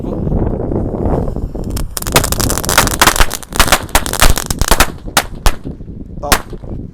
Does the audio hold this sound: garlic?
no